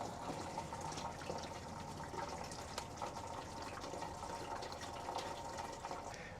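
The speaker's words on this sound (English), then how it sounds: "Now I need to watch when the water level in the container reached this black line at the top." Water runs steadily into a 5-gallon container from a tank in a Winnebago Revel, making a soft continuous splashing gush at low level with no talk.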